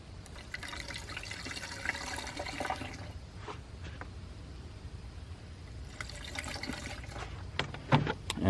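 Coolant splashes and trickles into a 5th-gen Camaro's radiator overflow reservoir, quiet liquid pouring in two bursts separated by a lull, ending with a few louder knocks.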